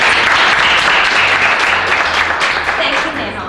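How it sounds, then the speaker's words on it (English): A room of people at a business training session claps steadily, a dense, even patter of applause held for a few seconds before tapering slightly, with faint talk low beneath it. "Could we please clap for her?"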